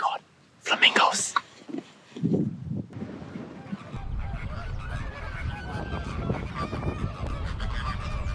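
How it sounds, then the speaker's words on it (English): Honking flamingo calls, several bursts loud and near at first, then a busier murmur of calls mixed with wind and people talking. "Oh my god, flamingos!"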